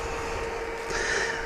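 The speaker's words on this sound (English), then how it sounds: "That noise you can hear is the cooling fan." A cooling fan on a red electric motorcycle whirs steadily after the motor has been running, a quiet continuous hum with a faint whine rising partway through.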